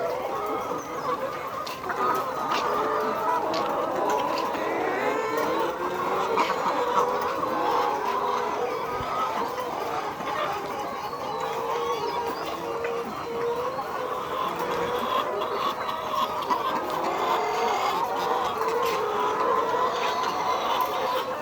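A large layer-desi cross rooster and its chickens cluck steadily on a village farm, a continuous mid-loud chorus of overlapping calls with no talk.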